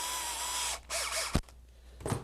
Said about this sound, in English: Take the special drill bit.